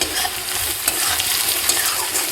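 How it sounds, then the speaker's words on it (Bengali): Garlic frying in hot oil in a home kitchen while being stirred, giving a continuous close sizzle with light spoon scrapes and clicks. "আর এবার দিয়ে দেবো এই রসুনগুলো একটু তেলের মধ্যে ভাজা হয়ে যাবে।"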